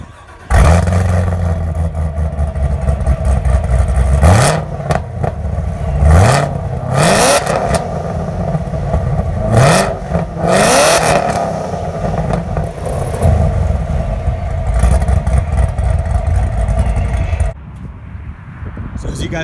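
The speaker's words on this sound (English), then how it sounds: "I'll go ahead and show you guys what this beast sounds like." A Hennessey Exorcist Camaro, rated at 1,000 hp, revs hard through its quad-tip exhaust in several loud, rising bursts over a throbbing idle, heard close up from behind the car.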